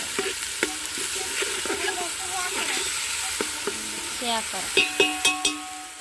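Green chili and onion paste fries in hot oil while a spoon stirs it, a steady close sizzle with scraping stirs and a few sharp clinks of the utensil against the pan near the end.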